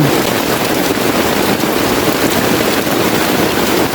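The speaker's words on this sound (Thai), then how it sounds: "ฝนตกก็อย่างนี้แหละป่าดิบชื้น" Heavy tropical rainforest downpour, a dense, steady roar of rain hissing evenly across the whole span with no pauses and no voices.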